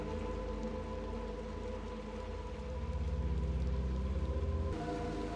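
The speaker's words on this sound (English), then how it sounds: "Oh, look at the rain coming down." Steady rain patters and hisses in Little Nightmares 2, a dense, even wash of falling drops under a low droning tone, with no voices.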